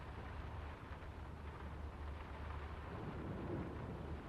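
A steady wash of rain with low, rolling thunder rumble underneath in the game Draugen, faint and continuous throughout.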